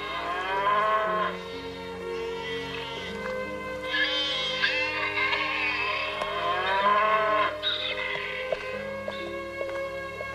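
Cattle moo in a stable, several long drawn-out lowing calls one after another, fairly close and clear over a low steady background hum.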